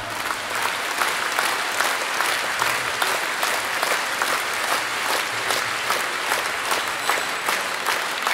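Concert audience applauding steadily at a pop-symphonic show in Chișinău, a dense wash of many hands clapping throughout, fairly loud and continuous with no talk over it.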